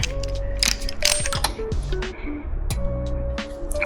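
A torque wrench tightens wheel lug nuts, giving sharp metallic clicks and clinks close up over a busy, steady mechanical background with scattered tonal pings.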